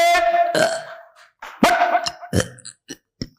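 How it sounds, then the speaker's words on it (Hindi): Man burping repeatedly, loud close belches, one long drawn-out croak followed by several shorter bursts and a few faint trailing clicks, with no talking. "ये देखो डकारा चल रही, देखो लगाए रहो से, देखो गैस निकल रही"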